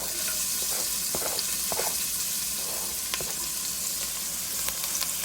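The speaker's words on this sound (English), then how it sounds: "I'm going to continue to stir fry my vegetables" Onion and carrot stir-frying in oil in a deep pan give a steady close sizzle, broken by a few soft scraping stirs, with no talking.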